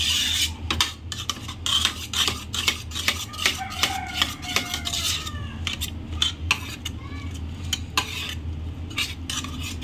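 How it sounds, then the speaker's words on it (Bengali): Home-cooked dal mashed and stirred with a metal ladle in a pot, a steady series of scraping, rasping strokes against the pot at close range, repeated rhythmically with no voices. "এই ডালটা এখন একটু ঘুটে নেবো এই হাতাটা দিয়ে।"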